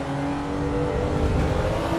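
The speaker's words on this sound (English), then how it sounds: "Hitting the rev limiter there." Race car engine at high revs bouncing off the rev limiter in the Assetto Corsa EVO racing game, a loud, steady droning whine with a constant tone and no break across the moment.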